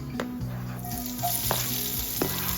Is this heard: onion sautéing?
yes